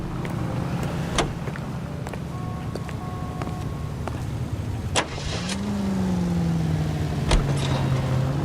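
A car driven in the video game L.A. Noire, with a loud, steady engine hum that rises in pitch as it accelerates, and a few sharp clicks along the way.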